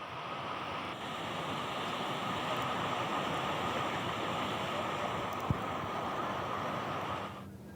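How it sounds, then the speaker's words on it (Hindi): Swollen rivers and streams in flood after continuous rain in Chhattisgarh, giving a steady, dense rushing roar of water that holds loud and even throughout, with wind noise on the microphone and no talking. "देखिए तस्वीरें किस तरह से नदी नाले उफान पर हैं"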